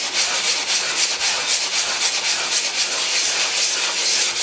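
Sandpaper rubs a knife blade by hand in circles and figure-of-eight strokes, a close, steady rasping swish that pulses with each pass and carries no voices.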